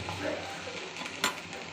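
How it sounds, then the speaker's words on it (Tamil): Okra being sautéed and stirred in a pan for a Tamil buttermilk curry, a soft steady sizzle with light scraping of the stirring utensil and one sharper clink near the end, no talk. "மோர் குழம்புக்கு தேவையான தான் வெண்டைக்காய் நல்லா வதக்கிடணும்"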